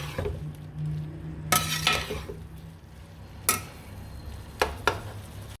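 Mixed vegetables fried and stirred in spices for vegetable pulao, a steady low sizzle from the pan broken by a few sharp clinks and scrapes of a spoon against the pot.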